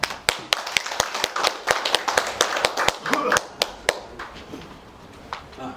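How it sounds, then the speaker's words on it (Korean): Scattered hand claps from a small seminar audience welcoming a speaker at a Korean-Chinese community forum, a few dozen sharp irregular claps over about four seconds, close and fairly distinct, then thinning out. "발제에 나오실 때 큰 박수 좀 부탁드리겠습니다."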